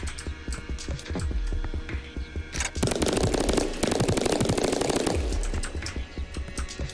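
A Tommy gun fires in the El Paso Nightmare game: a loud, sustained burst of rapid automatic shots lasting a couple of seconds, framed by quieter mechanical clatter before and after.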